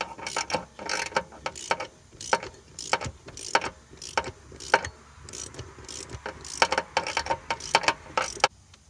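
A socket ratchet screws a thread-repair insert into a stripped spark plug hole in an aluminum cylinder head, producing close, irregular bursts of ratchet clicks in repeated strokes with short pauses between them.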